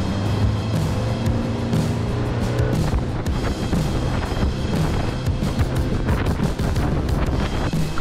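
Small boat cruising along a coastline, with steady engine drone and heavy wind buffeting throughout, loud and continuous with no voices.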